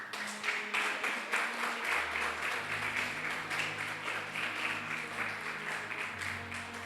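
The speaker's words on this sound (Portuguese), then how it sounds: "depois você aplaude a Jesus como é de costume" A church congregation applauds for Jesus during a Sunday service, soft continuous clapping from a roomful of worshippers with low sustained instrumental tones beneath it.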